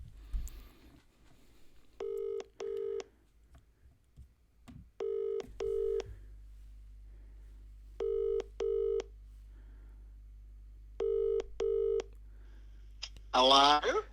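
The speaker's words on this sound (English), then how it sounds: "Let me just dial it into the phone." A telephone number is keyed in as four pairs of quick touch-tone beeps at steady intervals over a faint low hum, with a brief voice cutting in at the very end.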